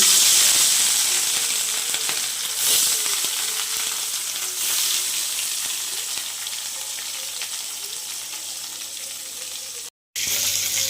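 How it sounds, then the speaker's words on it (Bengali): Rohu fish pieces fry in hot oil in a wok, giving a loud, continuous crackling sizzle that eases slightly over time before a brief dropout near the end, with no speech. "কড়াতে তেল দিয়ে দিয়েছি গরম হয়ে গেছে এখন মাছগুলো ভেজে"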